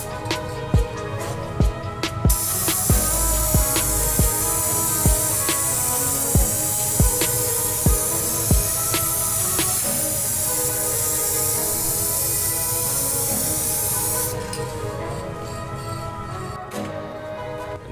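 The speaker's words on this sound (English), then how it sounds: "Now we're gonna go ahead and spray our activator about 12 inches off the surface" A steady hiss of hydrodip activator aerosol spray runs for about twelve seconds without a break, with faint rhythmic clicks and no voices.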